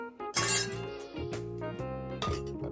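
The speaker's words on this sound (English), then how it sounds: "Next, get your shaker and add more ice." Ice clinks and rattles into a cocktail shaker, close and bright, with a loud first tumble of cubes and then more clattering pours.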